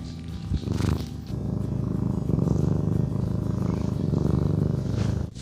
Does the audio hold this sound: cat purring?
yes